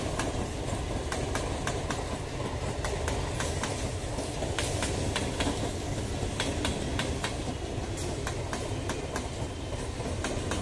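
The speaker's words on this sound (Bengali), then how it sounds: "31624 down Ranaghat Sealdah local Naihati rail স্টেশনে পৌঁছালো।" A Ranaghat–Sealdah suburban local train arriving at Naihati railway station, with steady rolling rumble and a rapid run of rhythmic wheel clicks over rail joints, close and continuous, with no speech.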